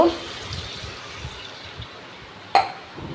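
Water goes into a fish curry with potatoes and taro in a pan, a soft running pour with low splashes and a sharp clatter near the end.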